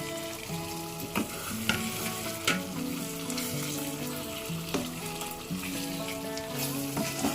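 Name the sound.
stirring paneer cubes in butter masala gravy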